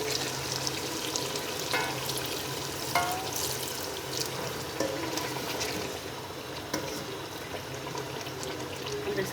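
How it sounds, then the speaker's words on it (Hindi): Tinda and potato curry simmers and sizzles in a pan after water is poured in, giving a steady bubbling hiss with a few faint clinks and scrapes and no talking. "अब इसमें थोड़ा सा पानी ऐड करते हैं ताकि ये गल जाए।"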